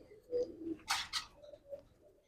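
A Mirab pigeon and other pigeons in a loft give faint, low coos, with a couple of short breathy rustles in between and a few softer murmuring calls trailing off in a quiet space.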